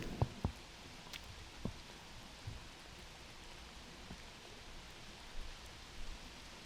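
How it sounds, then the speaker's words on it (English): Rain falling steadily on an outdoor disc golf course during a pro tournament round, a soft, even wash of noise with a few louder nearby drips and taps scattered through it. "the rain has started to slow down a bit, but it hasn't stopped completely"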